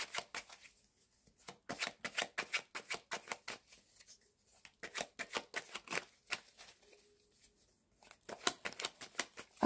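Tarot cards being shuffled close up, with repeated quick riffling bursts of crisp papery flicks in clustered runs separated by brief pauses, no voices.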